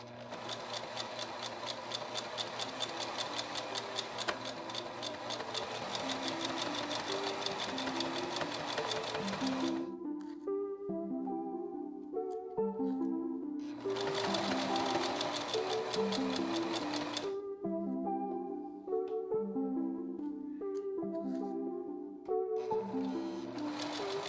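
A sewing machine stitches fabric for a cloth doll in close, rapid runs, two long bursts of humming rhythmic needle action separated by slower, halting stitching.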